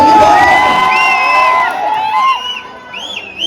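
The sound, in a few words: crowd whistling and clapping at a comedy event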